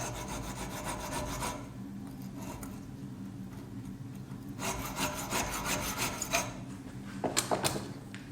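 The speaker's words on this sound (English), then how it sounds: "Just take the file here." A metal file rasps against a metal Viking pendant in repeated scraping strokes, close and moderately loud, with pauses between bursts and a few light clicks near the end.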